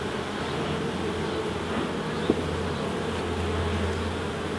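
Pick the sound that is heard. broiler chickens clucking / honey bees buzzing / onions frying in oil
honey bees buzzing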